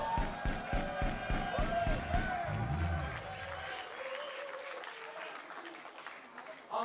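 Concert audience applauding the Krissy Matthews Band at the Aquamaria Festival 2023, dense clapping mixed with lingering band tones, then thinning to a softer crowd wash after a few seconds.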